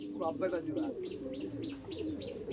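Red Madras pigeons in a loft coo in low, soft, throaty murmurs, with short high chirps repeating above them in a steady rhythm.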